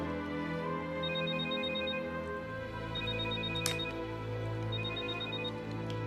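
A telephone rings indoors in repeated short bursts, a fairly quiet electronic ring recurring about every two seconds over a low steady background hum.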